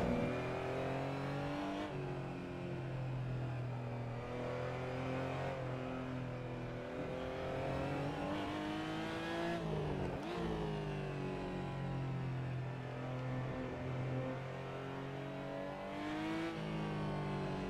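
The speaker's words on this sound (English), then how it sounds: "the start, you basically have to start in neutral, rev up, and then shift up to get a good start" A Porsche GT4 Clubsport race car engine in a sim racing game at a Nürburgring race start revs in neutral: a loud, steady harmonic drone that surges and dips as the revs rise and fall, with no talk.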